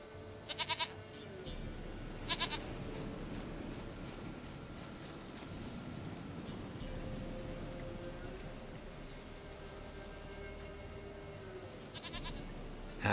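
In The Witcher 3, a goat bleats in short, fairly faint bursts, one near the start and one near the end, over a low steady outdoor ambience.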